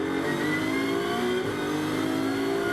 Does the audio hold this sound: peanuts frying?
no